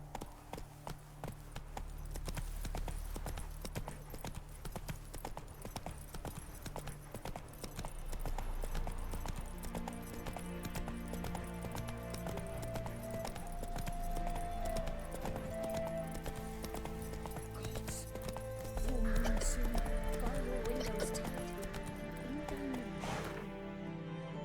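The horse Roach gallops in The Witcher 3, a continuous rhythmic clatter of hooves over a layered game soundtrack, with a whinny near the end.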